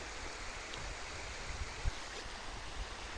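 Flowing water of the Ialomița river, a steady broadband rush of stream noise with low rumbles, heard close and continuous with no voices.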